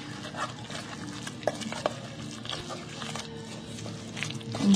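Dairy-free, soy-free buttery spread being stirred together with two lightly beaten eggs in a bowl, a steady soft wet mixing with a few sharper scrapes and taps, close and continuous with no talk.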